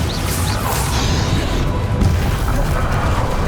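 A Bombarda spell blast goes off in Hogwarts Legacy, a loud, dense booming burst with crashing and whooshing over a continuous rumble of combat.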